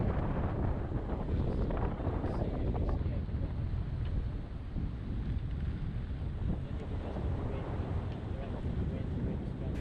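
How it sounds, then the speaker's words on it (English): Steady wind buffets the microphone aboard a reefed sailboat heading north toward Phang Nga Bay off Phuket, a constant broadband rush with water and hull noise beneath, loud and unbroken throughout. "We got some pretty good wind in the late afternoon and did some great sailing."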